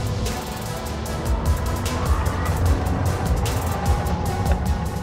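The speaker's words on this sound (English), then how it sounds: "floor it on full throttle, and you can see how the speed is going up" A Pininfarina Battista electric hypercar accelerates at full throttle in Furiosa mode, a continuous rushing drive noise with tire and wind roar building and pulsing steadily throughout, loud and close from inside.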